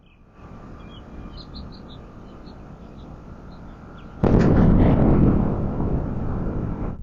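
A Blue Origin rocket explodes in the distance: light birdsong over a steady outdoor hum, then a sudden loud, broad roar that holds strong and rumbling for several seconds.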